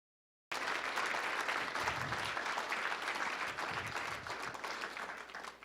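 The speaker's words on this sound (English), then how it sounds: "We ought to give them all a round of applause." Sustained audience applause for young award nominees at the AAU Sullivan Award ceremony, starting abruptly after a short silence, staying full and even, then easing slightly toward the end.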